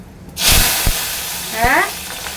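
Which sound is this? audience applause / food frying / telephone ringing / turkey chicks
food frying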